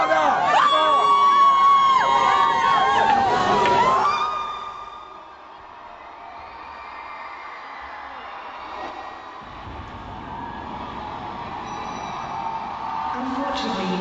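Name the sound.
concert crowd cheering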